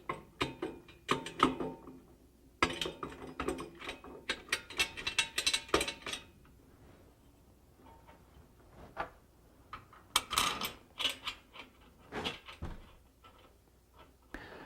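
Long cap screws are driven into locking plates on a Revo lathe's rails, heard as bursts of quick ratcheting clicks separated by short quiet pauses, close up and with no speech.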